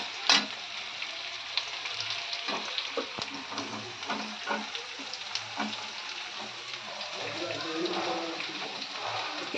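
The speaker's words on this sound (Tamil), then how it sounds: "இப்போ வெங்காயம் நல்லா வதங்கட்டும்." Onions sizzling in a pan with ginger-garlic paste, a steady bright fry with scattered pops and crackles throughout, with voices in the background.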